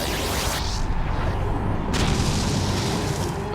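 Lunatone's Explosion move going off in Pokémon Colosseum, a loud sustained booming blast with rumbling, crackling low-end noise that fills the whole moment without pause.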